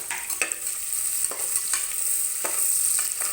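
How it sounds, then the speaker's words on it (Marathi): Onion dropped into hot oil crackles and sizzles steadily up close, while a spoon scrapes and stirs the pan in quick irregular strokes, no voices present. "चला हे कांदा तेलामध्ये टाकूया"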